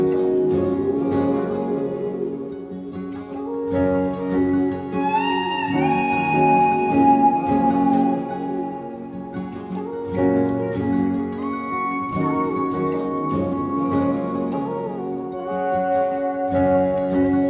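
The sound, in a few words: slide guitar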